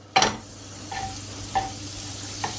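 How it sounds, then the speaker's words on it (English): A knob of butter drops into a hot frying pan for Brussels sprouts and pancetta, giving a sharp sizzling burst that settles into a steady, soft hiss, with a few faint clinks close by. "Let that sizzle around a little bit."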